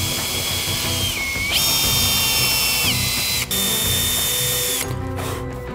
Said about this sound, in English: I'll widen those to a 4mm clearance hole, which is only going to drill through the door, not into the hinge